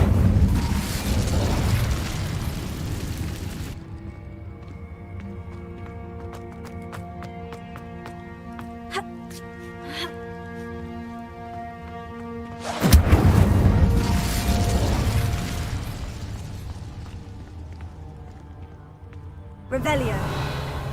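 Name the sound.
fire spell Incendio exploding in the video game Hogwarts Legacy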